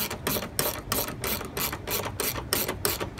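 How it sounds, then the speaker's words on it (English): A ratchet spanner tightens a 13mm clamp that holds a canopy to a vehicle, giving loud, close, rapid clicking bursts in a quick repeating rhythm with short pauses between strokes. "Then we grab our 13mm spanner or ratchet spanner. You tighten the back end first,"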